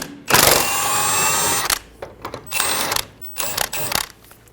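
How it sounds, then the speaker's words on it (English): Tightening and loosening clicks of a 15mm socket ratchet on the lower control arm bolt of a 2000-2007 Ford Focus, a dense metallic ratcheting burst followed by several shorter irregular bursts, close and fairly loud. "Using a 15mm socket, remove the bolt for the lower control arm."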